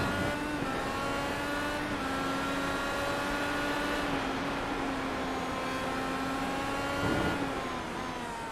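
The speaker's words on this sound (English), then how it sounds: "Lee Vandenberg as he takes us for a lap in the IndyCar around this track" An IndyCar IR18 lapping Mid-Ohio in the iRacing sim, its engine holding a steady, close, high-pitched whine with small shifts in pitch and a brief lift near the end, heard alone without voices.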